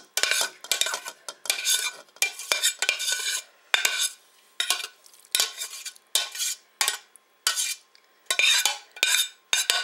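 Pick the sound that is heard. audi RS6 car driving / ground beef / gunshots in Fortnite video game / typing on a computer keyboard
ground beef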